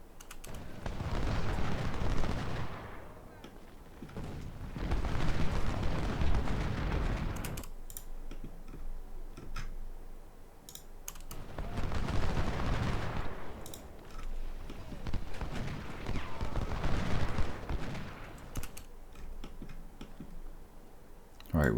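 Cannon and musket fire on the Malvern Hill battlefield in Ultimate General: Civil War rolls in long, loud swells of crackling volleys and booms, easing between waves, with keyboard clicks scattered throughout.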